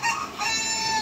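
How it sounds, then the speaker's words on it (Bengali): Columbian Light Brahma hens give a brief, loud, harmonic call against a steady background. "এই যে এগুলো আমাদের ব্রাহ্মা মুরগি"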